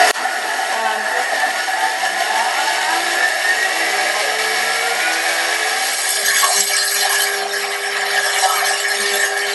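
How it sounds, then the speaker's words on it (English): A Thermomix grinds fennel and cumin seeds at speed 8, a loud steady whirring roar as the seeds rattle against the stainless steel bowl, the pitch shifting slightly partway through and running unbroken to the end. "the noise level will increase because you've got the fennel and the cumin seeds hitting against the stainless steel"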